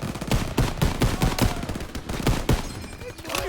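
Rapid gunfire from rifles and machine guns, with sniper shots, in a Call of Duty WWII battle, with loud, close bursts cracking in an irregular, dense rhythm throughout.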